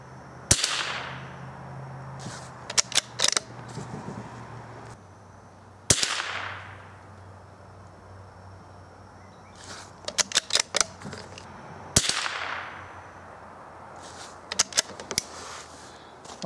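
Several .22 CB Short rifle rounds by CCI fire one after another, each a sharp, light crack followed by a fading tail. The shots come in three spaced groups, close by, with clicks of the action between them and no talking.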